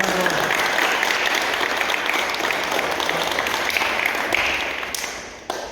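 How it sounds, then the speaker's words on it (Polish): Sustained applause from a crowd welcoming a junior boxing medalist back to her club, a dense steady clapping that fades slightly toward the end. "Proszę, Julia. Brawo."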